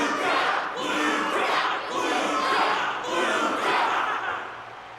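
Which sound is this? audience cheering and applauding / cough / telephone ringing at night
audience cheering and applauding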